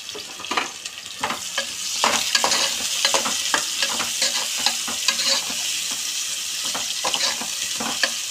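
Lentils and cumin seeds frying in a pan for a ridge gourd and moong dal curry, a steady close sizzle broken by repeated scraping taps of a spoon stirring, with no talking.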